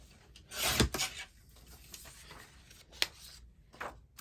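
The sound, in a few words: trimming paper border for card making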